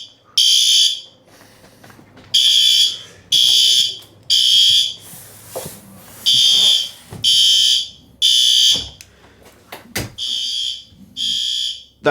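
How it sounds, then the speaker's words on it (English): During a monthly fire alarm system test, a horn strobe blasts in loud, evenly repeated pulses separated by short gaps, with a few faint clicks and knocks between the blasts. "Our main horn strobe is working"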